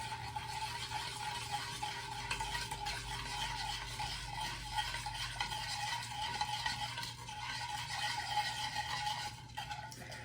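Steady scraping and swishing of a spoon stirring a thick sugar mixture with boiling water, continuous and fairly close, with a low hum underneath and no talking.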